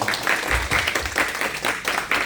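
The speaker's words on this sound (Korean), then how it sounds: "우리 박수로 환영하겠습니다." Church congregation clapping in welcome during a worship service, a soft uneven patter of applause from a modest group, somewhat distant and steady across the moment.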